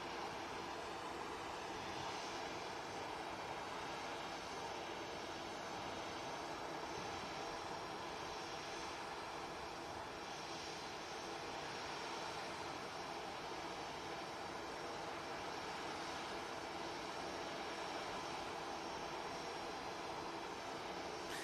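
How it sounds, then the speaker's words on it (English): At Manchester Airport an Airbus A320 bound for Lisbon produces a continuous, moderately quiet jet roar with a faint whining tone layered over it, sustained evenly from start to finish. "this aircraft, incidentally, is heading down to Lisbon. A320."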